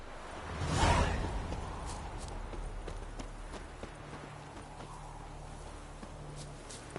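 Horse hooves clip-clopping in The Witcher video game, a steady, fairly faint rhythmic trot after a brief whoosh near the start, continuing alone without talk.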